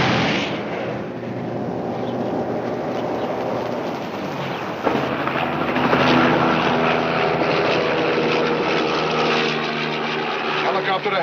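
A police helicopter drones steadily overhead, a dense continuous rotor and engine roar that swells slightly midway, with no other sounds standing out.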